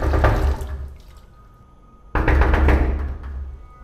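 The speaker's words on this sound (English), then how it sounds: "You knock so hard for what?" Hard knocks on a door, two loud bursts of pounding separated by a quieter gap, close and alone with no talk over them.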